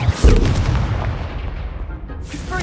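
A Confringo blast spell explodes in Hogwarts Legacy, one heavy booming burst that rumbles and fades away over a couple of seconds.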